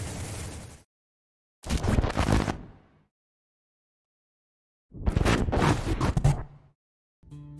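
Grenade blasts in the mobile shooter War After, two loud separate bursts with scraping debris, separated by stretches of silence.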